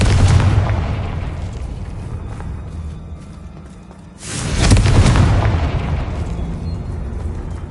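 Loud explosive blasts from the Confringo fire spell in the Hogwarts Legacy video game, a sustained rumbling boom followed by a second heavy burst around the midpoint, each trailing off into a low roar.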